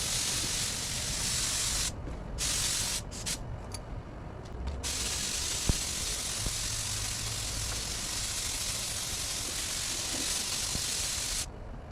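A Harbor Freight HVLP spray gun lays down a light coat of clear coat with a steady, loud hiss. The spray breaks off briefly in short bursts near the middle, and a long stretch of continuous spraying follows, with no voices.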